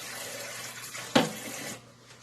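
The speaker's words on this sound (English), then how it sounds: "I'm going to rinse my fingers real quick here just to be sure" Tap water running briefly over fingers at a sink while making goat's milk soap, a steady close wash of water with a sharp splash partway through before it cuts off.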